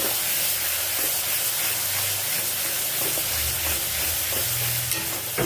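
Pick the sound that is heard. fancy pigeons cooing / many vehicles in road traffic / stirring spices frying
stirring spices frying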